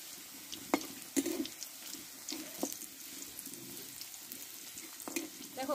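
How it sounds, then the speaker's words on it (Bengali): Dried red chilies and panch phoron fry quietly in hot oil, giving a faint, steady sizzle with a few soft clicks and light pops. No voices. "লঙ্কাটা একটু লালচে করে ভেজে নেব।"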